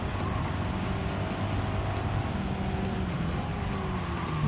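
Engine of a roughly 200 hp car in the racing game Gran Turismo 7, a steady continuous drone with tonal engine notes shifting in pitch, loud and close throughout with no talk.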